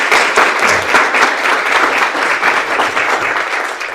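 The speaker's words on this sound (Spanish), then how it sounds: "recibamos con un fuerte aplauso al doctor Eric Castillo, por favor." Audience applause welcoming Dr. Eric Castillo at a conference, a steady dense clapping from a crowd, sustained and fairly loud throughout.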